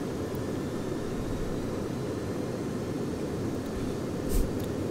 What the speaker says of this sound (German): Triebwerke starte schon.